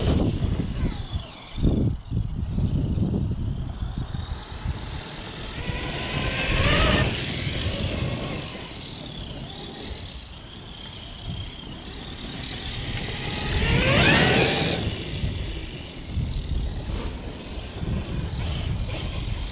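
A Traxxas Xmaxx 8s 1/5-scale RC truck driving outdoors, its motor whining up into two loud high-pitched surges as it speeds past, with rumbling tyre and terrain noise in between.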